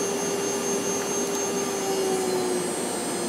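A Chinese CNC machine spindle whines at high speed, a loud steady motor drone whose tone steps gradually lower as it slows in increments.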